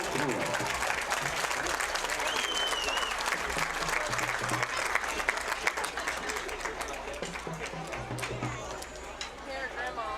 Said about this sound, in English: Round of applause for the St. Genevieve High School marching band and flag